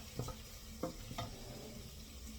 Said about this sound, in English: So my onion is looking really good. It's kind of looking more translucent. I'm gonna cook it a little bit more.